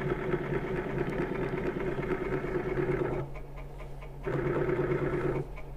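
Cutting chatter from a lathe tool machining a bearing bump tool, a steady buzzing vibration that drops out briefly when the cut pauses, then resumes before stopping again.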